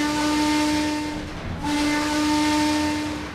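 A steam locomotive whistle in Trainz 2022 gives two loud, sustained tonal blasts with a brief hissing dip between them, near and alone.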